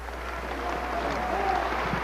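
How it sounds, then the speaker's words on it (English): Steady applause from a large standing audience greeting the Honorable Minister Louis Farrakhan at a gathering in Springfield, Massachusetts, a dense continuous wash of clapping with no break. "Let's have a Springfield round of applause for the Honorable Minister Louis Farrakhan"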